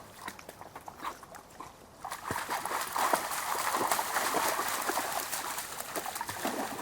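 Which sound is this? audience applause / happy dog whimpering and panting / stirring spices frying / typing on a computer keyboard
happy dog whimpering and panting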